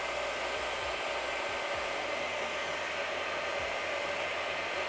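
Hot air plastic welding tool tack welding plastic tank pieces together, a steady close blowing hiss like a hair dryer, continuous and alone without speech.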